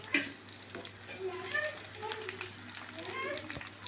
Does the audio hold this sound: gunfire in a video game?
no